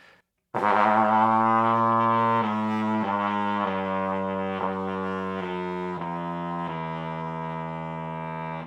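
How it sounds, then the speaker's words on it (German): A flugelhorn plays low notes in the bass octave: a string of sustained, rich brass tones that step from pitch to pitch with brief breaks between them, close and loud, with no talking. "Wir sind in der Lage, mit jedem Flügelhorn die Bassoktave zu spielen."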